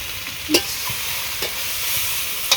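Meat curry with green chillies sizzles in a pan while a spoon scrapes and stirs it, a steady frying hiss broken by a few sharp clinks, with no voices.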